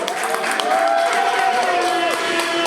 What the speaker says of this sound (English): let me hear you clap it up for it